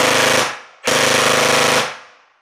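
A Sirius gel blaster powered by a stick battery fires on full auto in two close, loud bursts of rapid rattling shots, the first short and the second about a second long, each tailing off as the motor spins down.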